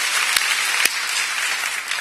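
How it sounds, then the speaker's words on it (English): An audience applauding at a National Children's Mental Health Awareness Day event, with a dense, steady wash of clapping from a large crowd, fairly loud and sustained throughout, with a couple of sharper claps near the start. "She deserves a huge applause."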